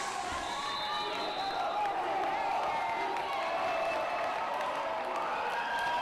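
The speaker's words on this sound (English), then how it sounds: "The crowd is on fire right now." A crowd in a gym at a boys volleyball state championship regional match keeps up a dense, steady roar of cheering and shouting that continues without a break.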